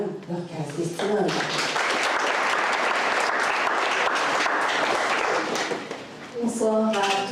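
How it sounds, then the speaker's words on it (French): Warm audience applause at a Black History Month closing gala in Laval, a full crowd clapping steadily for several seconds, with a voice speaking at the start and again as the clapping fades. "Qu'on applaudisse Madame Dorcas-Destinade."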